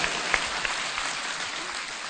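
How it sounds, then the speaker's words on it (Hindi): Gathered women in a crowd clap together for young people at a gathering about dowry, a soft, fairly distant patter of applause with a few sharper claps. "आप सभी माता बहनें सुंदर भारत के नौजवानों के लिए ताली बजाइए"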